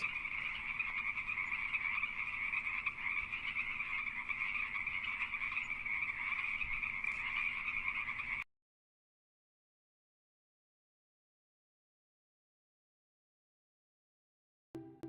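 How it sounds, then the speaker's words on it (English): A frog croaks in a steady, continuous trilling chorus for about eight seconds, then the sound cuts to silence before a brief return at the end. "the melodious croak of a frog on a tranquil evening"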